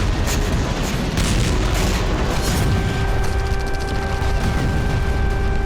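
An Israeli airstrike on Beirut gives a loud, sustained roar of explosion and rumbling debris in news footage, with no speech.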